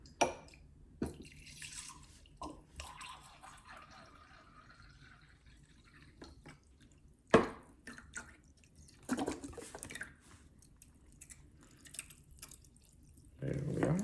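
Hydrogen peroxide is poured into a cornstarch solution for an iodine clock reaction, heard as faint, scattered drips and short splashes, close and quiet, with long near-silent gaps between them.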